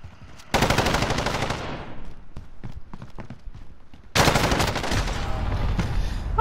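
Automatic gunfire in a 1v1 shooter video game comes in two long, loud, rapid bursts with a quieter stretch of scattered shots between them.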